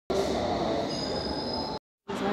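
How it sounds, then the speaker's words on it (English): A train, apparently at a station as the traveller prepares to board, produces a loud, steady rumble and hum with a faint high whine, then cuts briefly to silence before the noise returns. "This is my train. I'm going to hop on."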